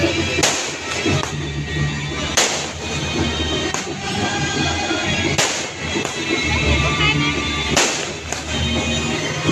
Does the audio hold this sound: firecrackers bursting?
yes